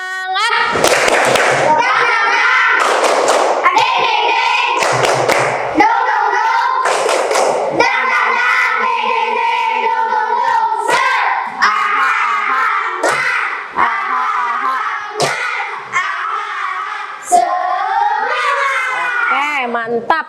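Classroom of children doing a rhythmic spirit clap, sharp bursts of hand claps and thumps in patterned beats mixed with kids chanting and shouting together, loud and near.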